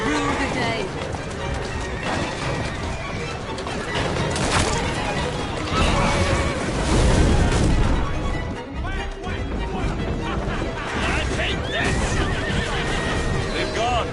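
Horse-drawn carriages in the Assassin's Creed Syndicate video game, with horses whinnying and hooves clip-clopping over a dense, loud mix of game action, music and crashes, while characters talk throughout.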